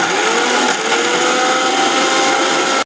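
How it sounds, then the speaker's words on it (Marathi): A kitchen mixer grinder whirs steadily as it grinds bread pieces into fine powder, a loud continuous motor drone with a rattling jar that cuts off abruptly at the end. "आता मी हे मिक्सरात घालून हे जे पावडर करून घ्या"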